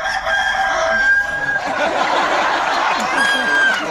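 A man imitates a chicken's clucking as part of an onboard show on the Pacific Eden cruise ship, with audience noise and laughter mixed under a loud, steady crowd din.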